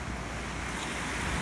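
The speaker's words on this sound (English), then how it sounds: "Waves are lining up pretty well," Small waist-high ocean waves break on a surf beach, a continuous wash of surf mixed with wind buffeting the microphone, steady and fairly close.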